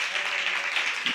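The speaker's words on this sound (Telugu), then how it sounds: "గట్టిగా ఒకసారి చప్పట్లు కొడుతూ దేవుని నామాన్ని మహిమపరుద్దాం" A church congregation claps hands together, a steady, even wash of applause filling the short moment with voices mixed in.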